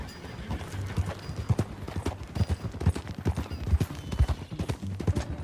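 Horse hooves clip-clop in a steady, close trotting rhythm in Red Dead Redemption 2, with a brief whinny and some faint distant shots in the background.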